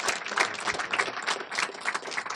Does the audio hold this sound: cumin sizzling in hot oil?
no